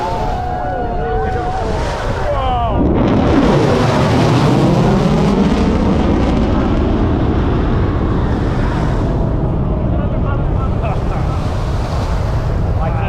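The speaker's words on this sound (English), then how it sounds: "B1 Bobber, high-speed pass." Rockwell B-1B Lancer bomber on a high-speed pass: a loud, sustained jet roar that swells and sweeps through as it flies by, then keeps rumbling and rushing like heavy wind for the rest of the pass.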